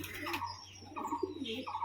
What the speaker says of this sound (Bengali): এই ছেড়ে দেওয়া হলো পায়রাটা স্ট্যান্ডিং